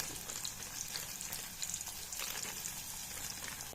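Onions frying in oil with a pinch of turmeric and salt for chicken biryani, a soft, steady crackling sizzle with fine spattering pops throughout, fairly faint and alone.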